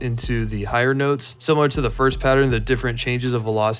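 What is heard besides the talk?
No distinct noise like a dog, phone or traffic.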